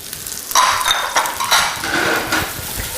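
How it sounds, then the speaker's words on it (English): Onions and mushrooms saute in rendered bacon fat, giving a steady sizzle with utensils clinking and scraping against the pan. "the next part is to saute the onions and the mushrooms right into the rendered bacon fat"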